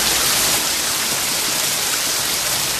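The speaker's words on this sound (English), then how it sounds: "I get caught in a massive thunder and rainstorm." Heavy rain pours steadily during a massive thunderstorm outside near Blackwater Falls, West Virginia, a loud, dense hiss that fills the whole moment without a break and with no voices over it.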